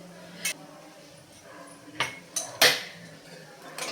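Crushed green chili and ginger stirred into vatli dal in a pan, heard as a few scattered metallic clinks and scrapes of a spoon against the pan over a quiet background.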